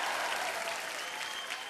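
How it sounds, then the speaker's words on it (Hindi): A studio audience at a televised kids' dance competition gives a short burst of even, fairly soft applause that continues steadily throughout. "जोरदार तालियां हो जाए"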